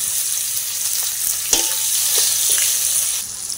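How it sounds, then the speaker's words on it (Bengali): Chopped onion hitting hot oil already holding dried chillies, bay leaf and five-spice, a close steady sizzle with a few soft spatula scrapes, brief and without voices. "5 ফোড়নটা দেওয়ার পর এবার দিয়ে দিতে হবে পেঁয়াজ কুচি"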